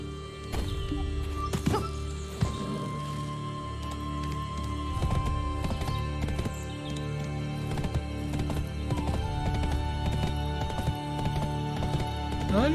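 Horse hooves in the online game Black Desert clip-clop in a steady running rhythm for the whole stretch, mixed with game music tones and occasional sharp effects, with no talk over it.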